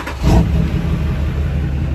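A Duramax truck engine cranks and catches with a quick burst, then settles into a steady, close, low idle rumble with no talking.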